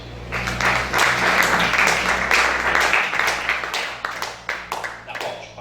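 Church congregation applauding together, a dense steady wash of many hands clapping for several seconds that thins into scattered, fading claps near the end, with a low hum underneath.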